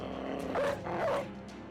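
Dog in the video game Battle Brothers giving two short, soft barks in quick succession, fairly faint and alone.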